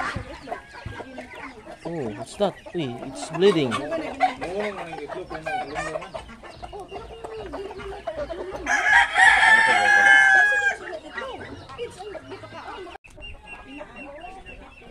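A chicken on a Muscovy duck farm clucks and crows repeatedly, a loud rooster call rising in the middle, while people talk nearby over the farmyard sounds.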